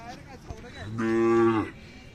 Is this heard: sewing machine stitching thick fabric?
no